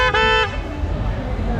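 A motorcycle horn at an indoor racing bike trade show gives one short, bright, loud honk, and people talk nearby over a crowd murmur.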